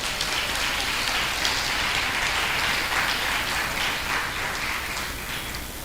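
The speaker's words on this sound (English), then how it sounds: "Let's have another round of applause for them." A hall audience at a high school for girls' centenary media launch applauds the performers in a thick, continuous patter of many hands, steady and fairly loud before easing slightly toward the end.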